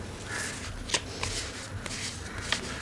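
Tarot cards being shuffled by hand, soft riffling and flicking with a few sharper card snaps, close and fairly quiet, with no talk over it.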